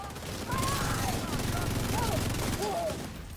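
Rapid gunfire bursts in a PVE shooter video game at close range, continuous and fairly loud across the whole stretch, mixed with game effects and talk.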